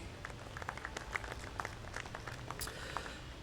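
An audience applauds a panelist at a leadership conclave, scattered claps forming a light, steady patter, soft and somewhat distant.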